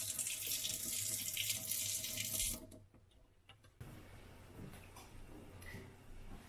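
A kitchen tap runs steadily over a handful of blueberries being washed, a loud hissing stream that cuts off, followed by quieter dripping and small clicks.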